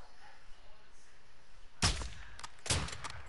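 Two sharp gunshot bursts ring out in the Call of Duty No Russian mission, the first just before the halfway point and the second a moment later, loud and close over a quiet game ambience.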